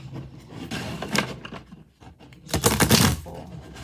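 An oracle card deck being shuffled by hand, giving two bursts of papery riffling and sliding, the second longer and louder, with quieter rustling between them.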